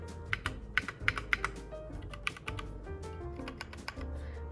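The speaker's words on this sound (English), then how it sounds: "This is my custom keyboard." Close, quiet typing on a handmade custom computer keyboard: a quick, uneven patter of crisp key clacks with small bursts and pauses, heard alone.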